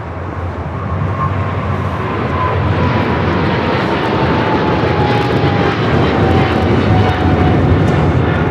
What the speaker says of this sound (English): the 777 now rolling down to 25 at left